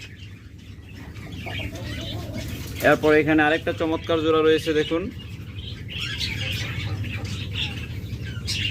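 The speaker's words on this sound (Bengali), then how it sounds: "এই চমৎকার লাভবার জোড়াটা একদম ব্রিডিং সেট আপের পাখি" A breeding pair of green opaline lovebirds gives a short burst of rapid, chattering calls in the middle, close and fairly loud, while someone talks before and after over faint background bird noise.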